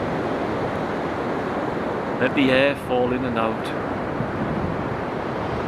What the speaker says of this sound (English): Let the sound of the waves play with your ears.